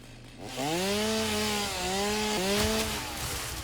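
In Satisfactory, a chainsaw revs up after a short quiet start and cuts through trees in a loud, sustained buzz, its pitch sagging and rising under load, close up with no talking.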